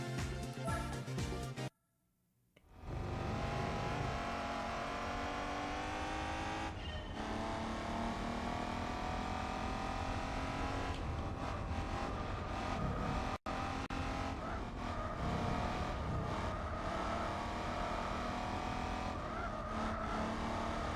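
An Alfa Romeo race car in Gran Turismo 4 roars loudly and continuously with engine revving and tire squeal, broken by a brief near-silent gap early on and a sharp cut later.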